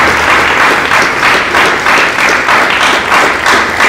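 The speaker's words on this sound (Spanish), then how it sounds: "Pues dale otro aplauso" A church congregation applauds, a loud, dense and steady wash of many hands clapping together in rolling waves, with no voices standing out.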